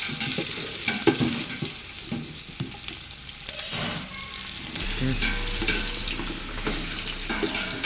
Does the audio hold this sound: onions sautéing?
yes